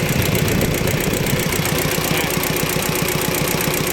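An old Hinomoto E15 tractor engine, a Japanese diesel with hand throttle only, idles with a rough, rapid knocking chug, steady and close, its rhythmic thumps running unbroken throughout.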